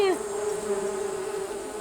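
Honeybees buzz close to the microphone at a wild hive during honey gathering, a steady, loud droning hum that holds one pitch with slight wavering.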